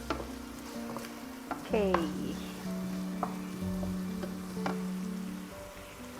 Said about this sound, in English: So we want to get this sauteed.